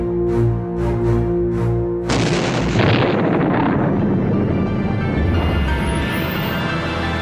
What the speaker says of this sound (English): triggering the vast explosion